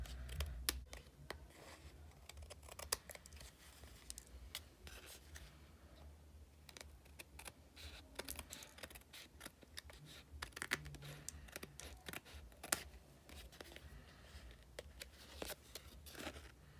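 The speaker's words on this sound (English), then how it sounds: "Trim off these edges." Scissors snipping and trimming the edges of a paper greeting card, a steady run of small crisp cuts and paper rustles, close and fairly quiet, with no talking.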